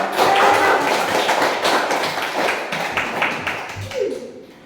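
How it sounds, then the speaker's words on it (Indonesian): A class of children claps together in a classroom, a dense burst of hand claps with a few taps and thumps, close and fairly loud, trailing off near the end. "Ya betul, semua tepuk tangan ya."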